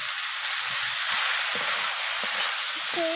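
Pumpkin greens sautéing in oil in a pan for a Bengali chorchori with fish roe, giving a steady, loud, close sizzle with a few soft stirring knocks.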